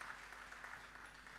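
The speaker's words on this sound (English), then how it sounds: "Give him a round of applause." Brief, steady audience applause at a challenge event, a faint, uniform wash of many hands clapping with no voices over it.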